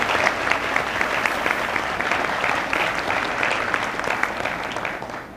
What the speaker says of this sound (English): I'd appreciate if we give them a big round of applause.